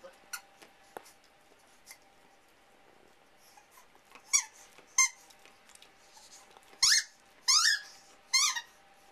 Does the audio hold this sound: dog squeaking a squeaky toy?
yes